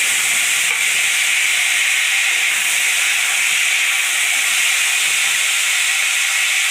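Five-spice seeds drop into hot oil, letting off a loud, broad, steady hiss that holds evenly with little change from start to finish, close up and without talk.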